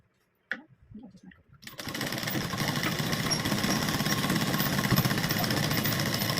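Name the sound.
sewing machine stitching a blouse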